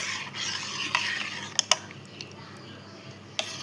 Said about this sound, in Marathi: ते एकदा ढवळून घेऊया आधी